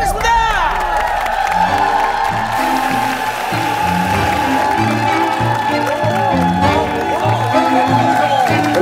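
A loud studio audience on a Korean variety talent show cheers and whoops over steady clapping as a classical guitarist is welcomed, with a sustained tone and rhythmic music running beneath the crowd noise throughout.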